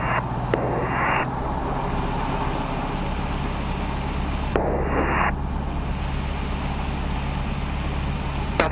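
Evektor Sportstar light aircraft engine running at full takeoff power, a steady loud drone with a constant low hum throughout, broken by brief bursts of radio chatter.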